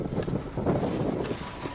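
Gusty, cold wind on Mount Everest rushes and buffets the microphone in a steady, low roar, with no voices.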